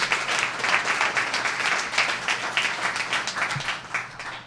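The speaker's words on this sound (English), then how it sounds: "So let's give these guys a round of applause." A crowd applauds at a Seattle city awards announcement, a dense, steady burst of clapping that carries on throughout and stays fairly close and loud, with no voices over it.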